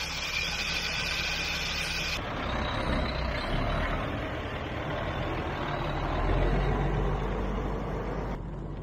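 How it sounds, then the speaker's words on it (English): A semi truck backs up under a grain auger while hauling corn on a farm, its reversing beeps repeating over a rumbling idling diesel engine, with a hiss of air brakes and no voices. "So Daddy is backing the semi under the auger."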